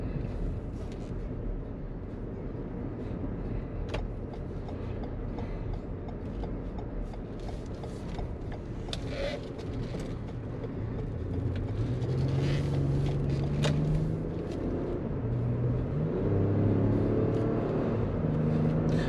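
Inside a 2018 Toyota Highlander on the road, a steady engine and road rumble with faint clicks, the engine tone wavering and stepping in pitch as the transmission hunts for a gear.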